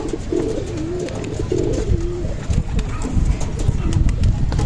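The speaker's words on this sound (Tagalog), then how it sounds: "Papasok na din yung mga yan mga kalapatids." Pigeons cooing outdoors, several repeated low throaty coos close by, with scattered clatters and background noise around them.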